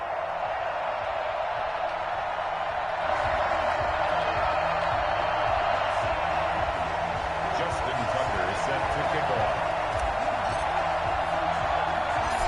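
Steady, roaring stadium crowd noise from an EA Sports NFL video game during a Kansas City Chiefs versus Denver Broncos matchup, a constant wash of cheering that swells slightly partway through, with commentary talking over it.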